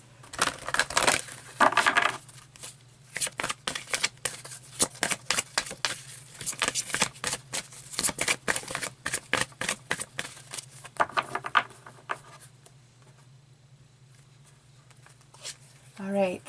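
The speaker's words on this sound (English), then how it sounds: "let's keep pulling more cards and see what else comes out" Tarot cards are shuffled and pulled from a deck in a reading, making quick papery riffles and slaps in bursts, close up, with a brief pause near the end before a last rustle.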